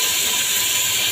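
Potatoes and onions tipped into hot oil with fried chilies for a restaurant-style mixed vegetable dish, giving a loud, steady, continuous sizzle and hiss that fills the whole moment with no voices.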